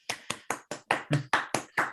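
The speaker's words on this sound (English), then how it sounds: "I think a round of applause is due" A single person claps alone for a speaker at the end of an online mathematics talk, nine sharp, evenly spaced claps close to the microphone against near silence.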